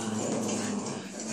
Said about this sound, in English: Yep, she's growling too now.